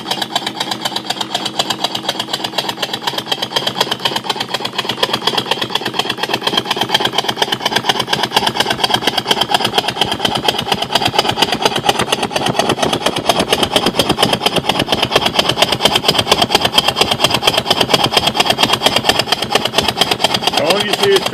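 A homemade steam engine running on compressed air instead of steam, chugging in a steady, rapid, slightly lopey rhythm at close range for the whole stretch, with a person talking over it.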